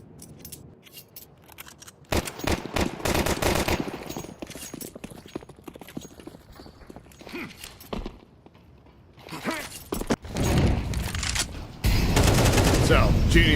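Rifle fire in a Counter-Strike match rattles out in rapid bursts of sharp, dense shots, loud and close, separated by quieter gaps with faint footsteps and background talk.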